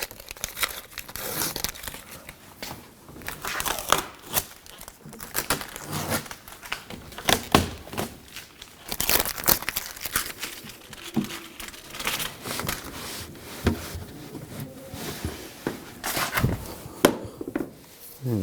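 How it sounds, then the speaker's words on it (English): Adhesive tape crinkles and tears as it is peeled off the window glass of a 2011-2018 Ram 1500 front door during a regulator replacement, in close, irregular bursts of crackling and ripping throughout. "take the tape off."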